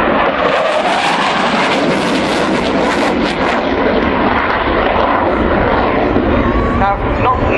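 A Panavia Tornado jet roars through a role demonstration flying display at RAF Waddington, a loud continuous broadband engine roar that fills the whole stretch, heard outdoors from the crowd line.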